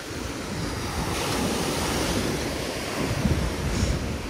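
Sea waves washing onto the shore at Sochi, a steady broadband roar of surf with gentle swells, mixed with wind buffeting the microphone and no voices.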